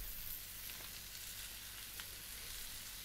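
Bacon sizzling in a pan with olive oil and butter, a steady soft frying hiss with faint crackles throughout, fairly quiet and with no talking.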